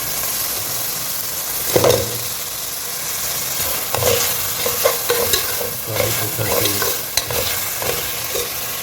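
A large cut tomato sizzles in hot oil in a pan, a steady frying hiss broken by scraping stirs and spoon knocks at an irregular pace, close up with no voices.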